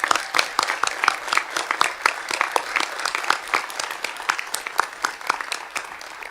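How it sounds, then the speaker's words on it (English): At a quarterly board meeting in June 2025, a room of attendees claps in a lively round of applause. Sharp individual hand claps stand out clearly and continue at an even level for several seconds. "Let's give them a huge round of applause."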